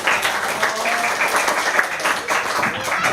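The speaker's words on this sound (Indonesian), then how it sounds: "Oke, berikan tepukan." A classroom of students claps together in a short burst of dense, steady applause, close and fairly loud, with a faint voice mixed in underneath.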